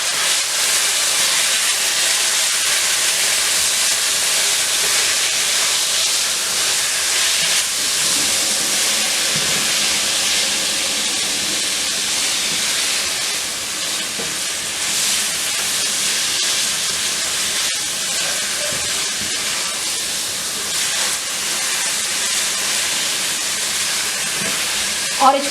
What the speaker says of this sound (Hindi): और इसको तकरीबन 5 से 10 मिनट के लिए तेज़ आंच पे भूनूंगी